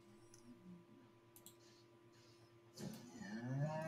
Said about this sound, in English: Moo again.